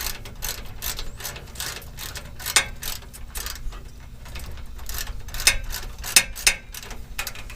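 Ratchet wrench clicking as a bolt is tightened on a 2007 GMC 5500 / Chevy Kodiak truck, rapid near pawl clicks in short bursts with a few sharper metallic ticks, no talking.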